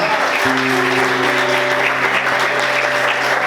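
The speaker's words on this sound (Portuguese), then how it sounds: "Aplaude o Senhor" A church congregation applauds during a sermon, dense, loud, continuous clapping with a sustained organ or keyboard tone running beneath it.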